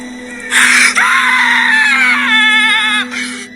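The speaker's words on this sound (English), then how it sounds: "Y'all hear his scream?" A man's loud, wavering scream rings out inside an abandoned church, rising and quivering for about two and a half seconds before cutting off.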